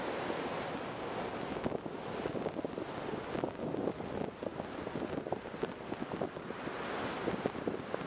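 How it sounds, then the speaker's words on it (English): Ocean surf rolling in at a San Francisco shore with steady wind buffeting the microphone, a continuous broadband wash of breaking waves and gusts throughout, fairly close and loud, with no talking. "here in wonderful San Francisco, where the surf is bigger than we're used to"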